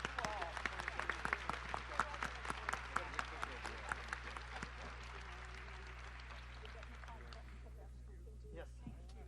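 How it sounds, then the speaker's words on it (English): Audience applause for a panel and Senator Elizabeth Warren at an Iowa event, dense sustained clapping from a crowd that carries on loudly for several seconds and then thins out and fades near the end. "please a round of applause for the panelists and Senator Elizabeth Warren"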